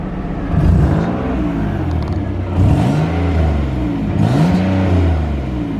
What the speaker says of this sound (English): you can legit hear that there's like some type of like rattling exhaust leak down here